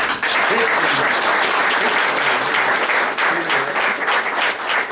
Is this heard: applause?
yes